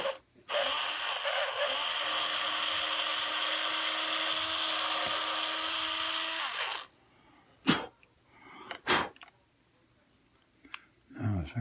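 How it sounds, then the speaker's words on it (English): A drill bores a ground wire hole into a Telecaster guitar body with a steady, high whine for several seconds, then stops, followed by a few quiet handling clicks and knocks. "the next thing we're going to do is drill that hole for the ground wire"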